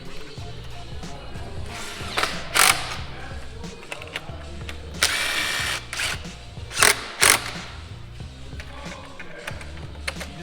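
Bolts on a Lexus RC F Maxton Design side splitter being tightened in a shop, with bursts of rapid ratcheting clicks and metallic taps between pauses, close and moderately loud, faint voices in the background.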